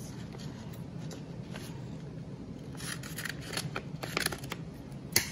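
Scissors snipping through wrapping material while packing an order, a quiet run of quick cuts and rustling that grows busier toward the end over a low room hum.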